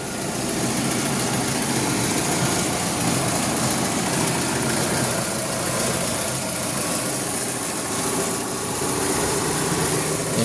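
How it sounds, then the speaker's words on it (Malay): A car engine idles steadily with a loud engine fan whirring over it, a constant dense hum with no talking. "Yang bising macam kipas ni kot. Kipas enjin."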